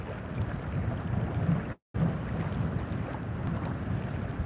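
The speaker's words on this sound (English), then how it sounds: "It is very, very blustery here today." Blustery outdoor wind buffets the microphone in a steady, broadband rush with low rumbling gusts, broken by a brief dropout midway; no one speaks.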